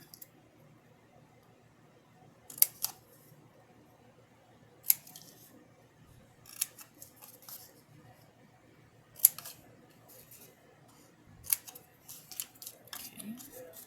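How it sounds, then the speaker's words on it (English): Scissors cutting paper for a gift box treat holder craft, heard as several separate crisp snips spaced a few seconds apart, close and fairly quiet, with no talking. "Okay, so I'm going to cut."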